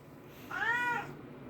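A 12-year-old house cat gives a single drawn-out meow, clear and close, standing alone against a quiet indoor background.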